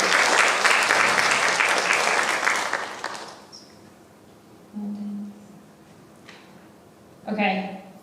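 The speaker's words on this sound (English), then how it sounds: "Let's give him a round of applause" A classroom audience applauds briefly during a grade 3-5 math quiz show, dense clapping for about three seconds, then fading out, followed by scattered faint noises and a short voice near the end.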